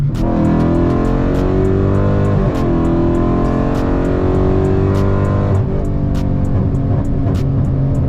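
Car engine with an aftermarket intake revving hard and continuously, loud and close, with repeated throttle rises and falls and no talk.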